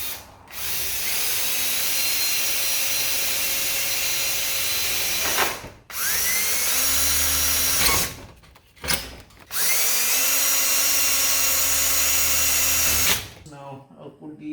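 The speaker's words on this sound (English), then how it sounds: "I'll drill some holes for the screws." A power drill bores screw holes into a garage door being reinforced, three long whining bursts a few seconds each, close and loud, with short pauses between them.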